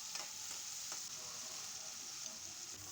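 Onion and tomato for paneer butter masala fry in a pan, a faint, steady sizzle broken by a few soft stirring taps early on, with no talking.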